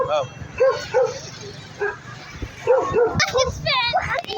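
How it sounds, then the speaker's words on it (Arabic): A dog at the seaside barks and yips in repeated short bursts at fairly close range, mixed with several people talking and a voice. "كاين كلب لازم نشوف فيه"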